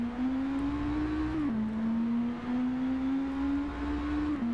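Steady engine drone of a Yamaha XJR 1300 motorcycle in a PS4 racing game, holding a constant pitch with a brief dip and recovery as the revs cut, continuous and moderately loud.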